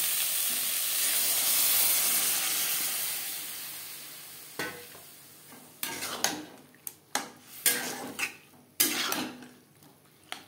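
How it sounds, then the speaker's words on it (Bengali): Boiled chana dal stirred into cauliflower, tomato and spices in a pan: a soft steamy hiss at first, then a run of sharp scraping spatula strokes and clatters against the pan, close and loud. "ফুলকপির সাথে বেশ ভালো করে মিক্সড করে দেব।"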